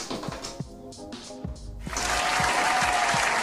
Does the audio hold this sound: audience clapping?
yes